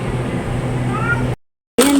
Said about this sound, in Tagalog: Yung pusa namin gustong lumabas.